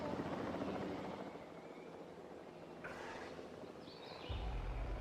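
A helicopter airlifts a T-Rex in Jurassic World Evolution 3, making a fairly faint, continuous rotor drone that rumbles on steadily without talking, with a slight low-end swell near the end.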